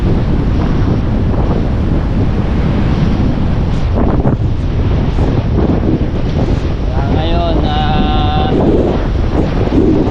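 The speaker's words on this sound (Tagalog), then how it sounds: "Itsura ng dagat o, malakas ang hangin pati." Strong gusting wind buffets the microphone over a constant roar of sea waves along the coast at Bucana, loud and unbroken, with faint voices in the background.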